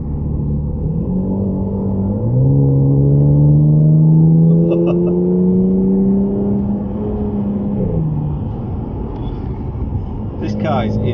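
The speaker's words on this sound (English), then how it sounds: "And that pop as well you get from the exhaust" Audi S5 Black Edition, 410 bhp, revving from inside the car, engine pitch climbing through gears and falling off, with faint exhaust pops near the end; a person talks over the engine.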